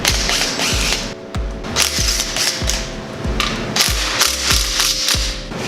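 A ratchet socket wrench clicks steadily on a Toyota Supra intake manifold during an engine teardown, repeated bursts of close metallic ratcheting over a constant background hum.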